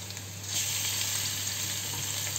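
Continuous sizzling of goat meat added to a hot pan with fried garlic, a steady hiss that grows slightly louder after the first half second, with no talk.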